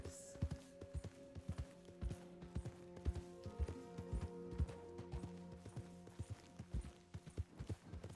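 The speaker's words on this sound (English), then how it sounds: "I'm gonna head back stealthily and successfully steal the horse." Horse hooves clip-clopping in a steady walking rhythm during a horse theft in a cowboy video game, moderately close under low game music and ambience, with a few heavier thuds.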